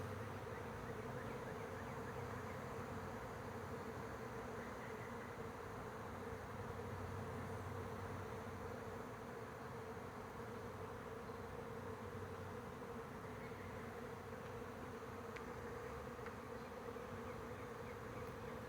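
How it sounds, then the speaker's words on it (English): Dense, steady buzzing of a huge wild honeybee colony nesting in a tree, a continuous drone that holds at the same level throughout with no voices. "There are so many bees, you can hear them like hummingbirds."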